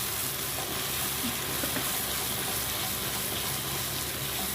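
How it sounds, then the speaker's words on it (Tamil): Ground garlic and chili chutney poured into hot oil in a pan gives a steady, close sizzle and bubbling hiss that holds evenly throughout, with no talking. "அரைச்சி வச்ச பாருங்களேன் அந்த சட்னி விட்டு ஊற்றிட்டு"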